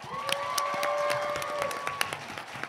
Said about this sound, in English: So can we give a round of applause for drag?